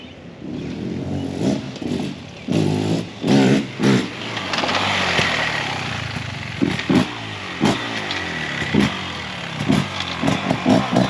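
A new enduro dirt bike engine is revved in short, loud bursts, rising and falling with sharp throttle blips close up, no talking over it.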